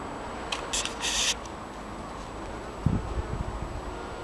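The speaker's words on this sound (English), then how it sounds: "the bees are absolutely going bonkers in these" Bees buzz around flowering kale and sprouting broccoli in a home garden, a faint hum under breezy outdoor rustle, with a couple of brief louder passes close by.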